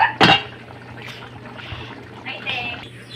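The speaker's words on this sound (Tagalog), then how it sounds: "lagyan natin yan ng tubig" Water poured into adobo simmering in a pan, a brief splashing pour near the start followed by soft bubbling and liquid sounds, with a steady low hum underneath.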